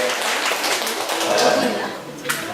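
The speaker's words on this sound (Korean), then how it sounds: "박수 한번 더 쳐주세요" A church congregation claps together in a steady wash of applause that swells briefly and then tapers, with a voice speaking over it.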